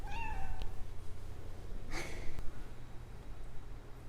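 A pet cat gives a short, close meow at the start near a litter box, followed by a soft breathy exhale or snort, then quiet room hum.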